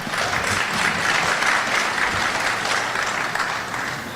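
An audience at a career and technical education letter-of-intent signing day applauds for an honoree, a continuous, dense wash of clapping that holds steady and fairly loud throughout.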